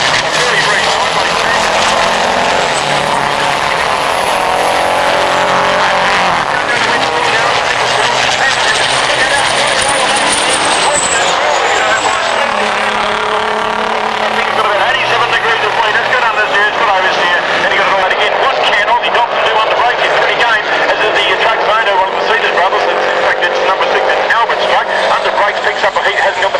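Kenworth, Volvo and MAN diesel racing trucks run hard on a circuit at a 1991 Baskerville meeting, engines roaring continuously and loudly throughout with a commentator talking over them.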